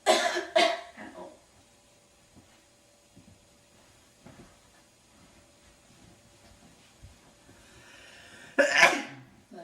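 A sharp sneeze bursts out at the start, then near silence with faint rustles, and a second loud burst near the end.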